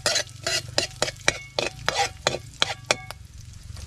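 Garlic for fried rice frying in a pan, with repeated close scraping and stirring strokes in a steady rhythm over a soft, continuous sizzle.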